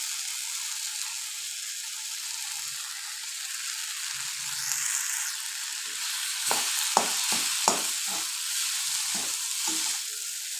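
Rice with onion and tomato fries in a pan, a constant close sizzle broken late by a series of sharp scraping knocks from the stirring spoon.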